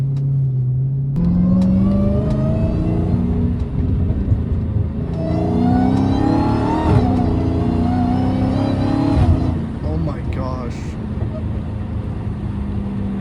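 A powerful Dodge Hellcat Redeye engine revs and accelerates up close on a rain-wet road, its loud rumbling tone climbing and falling as the car drives.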